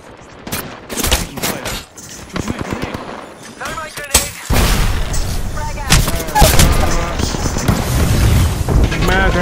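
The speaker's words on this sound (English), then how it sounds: "Thermite grenade!" A thermite grenade goes off in a video game amid rapid bursts of gunfire and booming blasts, loud and chaotic, with a voice calling out over the action.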